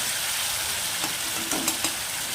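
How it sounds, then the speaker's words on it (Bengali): Spice paste frying in a pan, with a dense continuous sizzle close up and a few soft stirring clicks near the end. "পেস্ট করা মশলাটা আমি ভালো করে কষিয়ে নিচ্ছি।"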